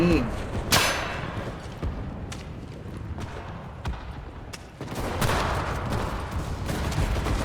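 Gunfire crackles through a busy battle in the video game Enlisted, with scattered shots and bursts over dense battlefield noise, while someone talks excitedly over the action.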